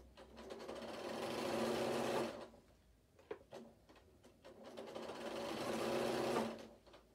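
A sewing machine on a work desk runs in two sustained bursts of steady mechanical whirring, each about two seconds long, separated by a pause with a few small clicks.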